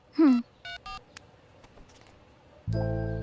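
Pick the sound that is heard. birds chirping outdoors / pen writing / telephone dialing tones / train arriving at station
telephone dialing tones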